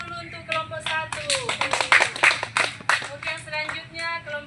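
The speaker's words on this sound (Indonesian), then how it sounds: "Oke, tepuk tangan dulu untuk kelompok 1." Outdoor group of students clapping for their classmates at a microteaching lesson, a close, uneven burst of hand claps lasting several seconds with voices and laughter mixed in.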